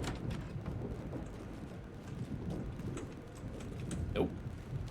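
Rain falls steadily in a stormy Alan Wake 2 game scene, with low rolling thunder rumbling faintly underneath the patter and a brief sharper sound near the end.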